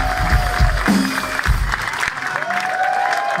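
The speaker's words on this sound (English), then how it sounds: "so let's give him a round of applause." Concert audience applauding at a Winger show at the A38 venue in Budapest: a sustained wash of clapping from a crowd with some cheering, steady in level across the whole stretch.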